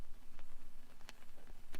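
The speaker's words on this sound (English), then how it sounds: "Like your typical static vinyl texture would sound like this," Static vinyl texture: a steady low hiss and hum sprinkled with sharp, scattered crackles and pops, heard alone at a soft level.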